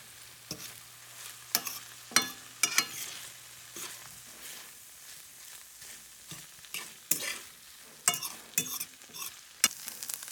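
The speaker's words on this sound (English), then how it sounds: "I've been sauteing them for about, I don't know, like 3 minutes or something like that." Sausages sautéing in a pan for veggie spaghetti, a soft continuous sizzle broken by repeated scraping and stirring clatters from a utensil, close up, with no talking.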